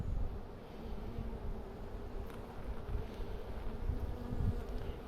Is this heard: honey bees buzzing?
yes